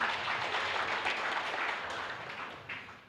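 A crowd of trainers and guests at a scouting opening ceremony applauds in a steady, dense patter of many hands that fades slightly toward the end, with no talk over it.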